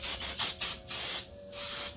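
Brake parts cleaner hisses from an aerosol can onto the brake rotor of a 2007–2018 Chevy Silverado 1500 in several short, close bursts with brief pauses between them.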